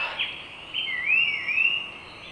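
A bird in a forest gives a few clear whistled, sliding notes, moderately close over a quiet, faintly hissing background.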